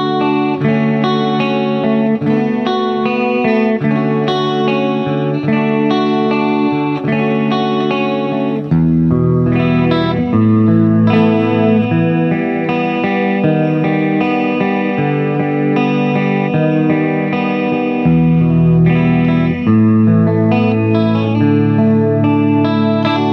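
Electric guitar chords strummed and held in a slow progression, ringing with a shimmering, effected tone and no talking.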